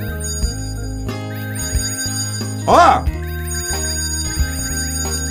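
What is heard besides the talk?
doorbell ringing in a video game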